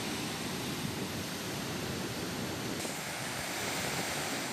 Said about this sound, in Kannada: ನವಿಲು ತೀರ್ಥ ಡ್ಯಾಂನಿಂದ ನೀರು ರಿಲೀಸ್ ಆಗಿದೆ